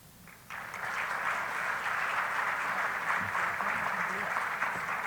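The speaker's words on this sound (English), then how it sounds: "How about another round of applause for her?" Audience applause after a speech at a convening event, a dense sustained clapping that begins abruptly half a second in and stays steady and fairly loud to the end.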